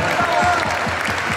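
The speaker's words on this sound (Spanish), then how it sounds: "Un aplauso para ellos." Crowd applause for the Asociación Mariana at a Virgin of Guadalupe communion service, loud, dense clapping filling the whole moment with a voice talking over it.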